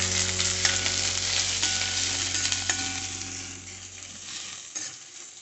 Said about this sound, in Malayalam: ഇനി നമ്മളതിലേക്ക് ഒരു മീഡിയം സൈസ് സവാള നീളത്തിലരിഞ്ഞതും 2 തക്കാളി ഇതുപോലെ കട്ട് ചെയ്തെടുത്തതാണ് ചേർക്കാൻ പോകുന്നത്